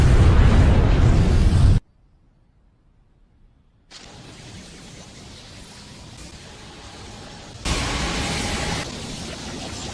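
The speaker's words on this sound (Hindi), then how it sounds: "धमाके को एक दूसरे स्पेस में भेज दिया" Anime explosion blast from a Naruto Shippuden battle: a loud roaring burst cuts to near silence, then a sustained broad rumble swells back in, with a brighter, louder surge near the end.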